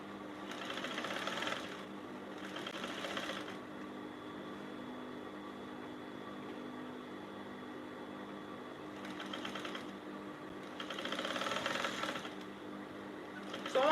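A sewing machine stitches a blouse sleeve in four short runs of rapid, close mechanical chattering, with quiet pauses between them.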